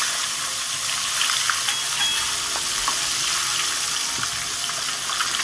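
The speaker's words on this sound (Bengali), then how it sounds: "দেখুন, সব কটা ডিমটা আমি তেলেতে দিয়ে দেবো।" Duck eggs fry in hot mustard oil with a steady, fairly loud close sizzle and faint spattering crackles throughout, no voices.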